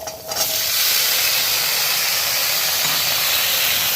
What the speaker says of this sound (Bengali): আলুগুলো খুব ভালো করে নাড়াচাড়া করে একটু ভাজা ভাজা করে নেব